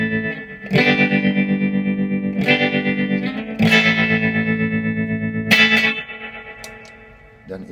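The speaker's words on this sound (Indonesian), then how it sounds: "Ini tremolonya." An electric guitar through a VOX AC15C1 amplifier plays strummed chords with the tremolo effect on, the sustained notes pulsing rapidly in volume, loud and up close with several distinct strums.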